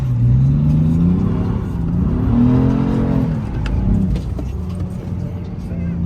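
A BMW M3 drift car (F80 or G80) accelerates hard around a track at a drift day in the Bourbonnais. The engine is loud and close, rising and falling in repeated revving sweeps, with faint talk underneath.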